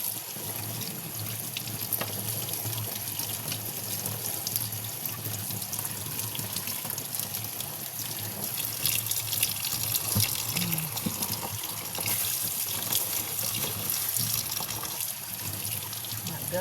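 Milkfish (bangus) is rinsed under a running kitchen tap for a steady, moderately quiet stream of water splashing into a sink with faint handling, continuing throughout with no talking.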